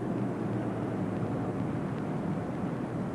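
Space Shuttle Atlantis rolling out on the runway after main gear touchdown, without braking, makes a loud continuous broadband roar that holds steady throughout with no pauses.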